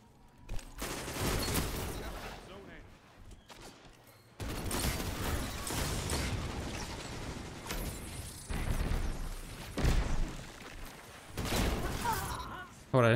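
Machine gun fire in Destiny 2 competitive multiplayer, rapid bursts of automatic shots in several separate volleys with mechanical clatter between them, loud and close, broken by short pauses.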